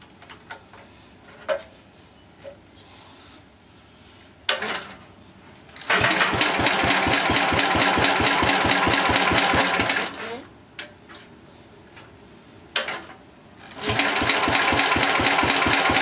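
Wheel Horse 701 lawn tractor engine cranking and firing, settling into a loud, fast, even chugging run, dropping off, then catching again with a sharp start and running strongly, close by.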